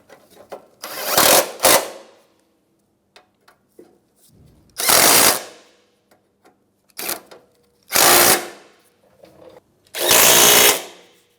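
Power tool tightening bolts on an Acura MDX A/C condenser, five short whirring bursts of about a second each, separated by quiet gaps with faint clicks and handling noises.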